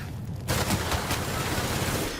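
Gunfire in The Outer Worlds comes as a dense, loud stream of shots and impacts, continuous and fairly close over about two seconds.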